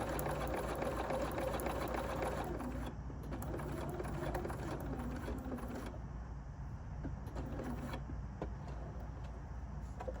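A sewing machine stitching rickrack trim onto an autumn quilt runs in steady bursts, its fast, even mechanical whirr close and quiet and stopping briefly between runs, with no talking.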